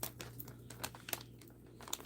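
Crinkly plastic packaging of a craft toy badge being handled and opened, giving bursts of close, brittle crackling and rustling with a few sharper crunches, no voices.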